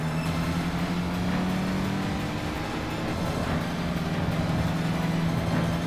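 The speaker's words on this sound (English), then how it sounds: "I attributed this mediocre exhaust sound to my MX-5 having a stock exhaust" Mazda MX-5 with a stock exhaust in the racing game Tokyo Xtreme Racer, a steady droning engine note held at near-constant pitch with a slight dip and rise, loud and continuous with no talk.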